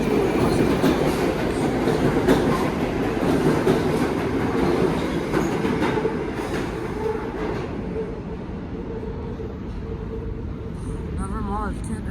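NYC subway trains rumble through Brooklyn Bridge station on the IRT Lexington line, with loud clattering wheels and a steady roar that eases slightly, then faint squeals and chimes near the end, while a voice talks over it.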